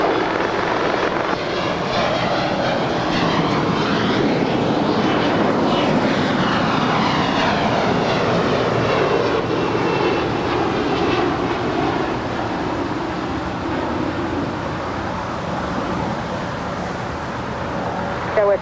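At Los Angeles LAX, an American Airlines jet takes off with a continuous loud engine roar that holds steady and slowly shifts in pitch as it climbs, filling the whole stretch, with no clear voices.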